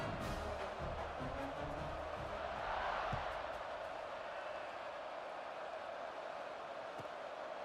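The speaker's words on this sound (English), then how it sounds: "this crowd is feeling themselves after that last drive" A crowd roars at a college football video game between Jacksonville and East Carolina, a broad, steady cheer that swells early and then settles into a softer, continuous murmur.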